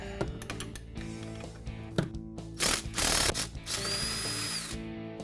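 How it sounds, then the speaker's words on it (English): Impact wrench with a 14mm socket and extension removing bolts from an EZGO TXT golf cart steering box, clicks and rattles followed by short bursts of loud whirring and hammering, close up with no talk. "I'm going to use a 14mm socket with an extension on my impact wrench."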